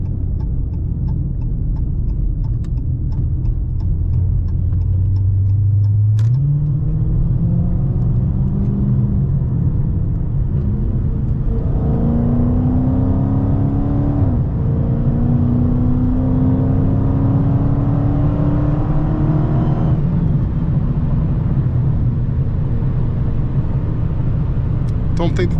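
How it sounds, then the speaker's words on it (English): Dodge 392 Scat Pack at highway speed, its engine rumbling steadily with a whine that rises in pitch as the car pulls, loud and close throughout. "You can hear that whine."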